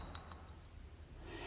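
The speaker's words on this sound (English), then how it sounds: "This is the sound of a modern mechanical watch oscillating at a frequency of" A modern mechanical watch running at 28,800 beats per hour gives a few faint, crisp, evenly spaced ticks up close. The ticks quickly fade into quiet background hiss.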